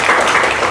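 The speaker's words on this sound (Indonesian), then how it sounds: "tepuk tangan buat kelompok 3 ada" A classroom applauding a student group after their turn, dense continuous clapping, loud and close, filling the short moment without speech.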